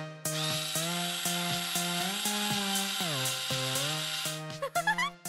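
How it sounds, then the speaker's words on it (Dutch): A power drill runs in steady whirring bursts, its motor pitch holding then dipping under load before a few short trigger pulses at the end, fairly close and with no speech. "Carrie, breng de boormachine"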